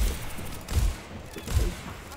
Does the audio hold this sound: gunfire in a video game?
yes